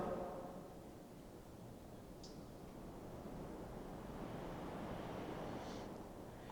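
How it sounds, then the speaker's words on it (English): Wind gusting through an old prison corridor makes a low, steady, hollow rush that swells slightly and then eases, with faint distant creaks. "God, that wind's eerie, isn't it? It's aggressive, isn't it?"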